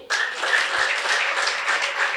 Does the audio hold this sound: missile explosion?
no